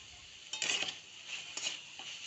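Fenugreek leaves for methi bhaji get stir-fried in a pan, with a soft background sizzle and two short bursts of a spatula scraping and tossing the greens, fairly quiet and close.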